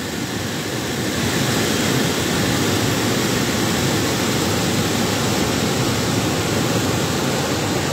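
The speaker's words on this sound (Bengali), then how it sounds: "বিপদ সীমার নিচে পানি প্রবাহিত হচ্ছে," A strong current on the Muhuri River at the Muhuri project rushes past in a steady, loud, broad roar that continues unbroken, with no voices.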